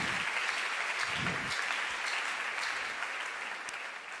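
Church congregation applauding, a steady broad wash of clapping from many hands sustained evenly throughout, fairly distant and without pause.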